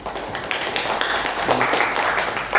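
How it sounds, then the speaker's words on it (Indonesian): Students applauding group 3 in a classroom, a short burst of mixed hand claps that stays fairly steady throughout. "tepuk tangan dulu untuk kelompok 3"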